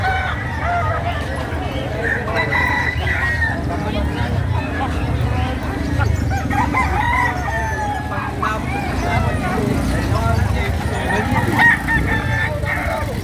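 Native roosters crow repeatedly among clucking fowl at a chicken gathering in Calumpit, Bulacan, the calls rising over a busy background as people talk throughout.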